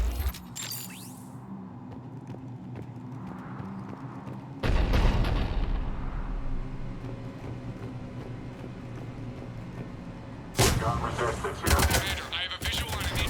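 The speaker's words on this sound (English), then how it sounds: "The cannon fire is clearing the way." Heavy booming cannon blasts in a sci-fi video game battle erupt in bursts, with rapid gunfire volleys between them, loud and close over a low rumbling battle backdrop.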